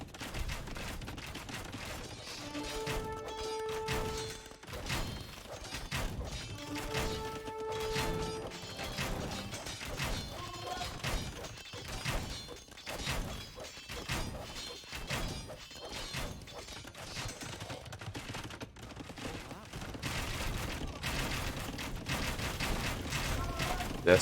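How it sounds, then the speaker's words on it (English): Bombard cannons firing on a castle during an Age of Empires match, with repeated sharp booms and mechanical clatter scattered through a busy battle din, faint and mixed with game tones. "The castle should be quickly dealt with by the bombard cannons over here."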